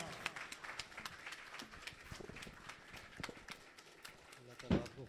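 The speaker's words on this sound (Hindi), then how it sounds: "आप तमाम दोस्तों से गुजारिश है कि भरपूर तालियों में उनका इस्तकबाल कीजिए।" Sparse, faint clapping rises from a crowd at a large community group meeting welcoming a speaker, as scattered individual claps ending in a louder burst.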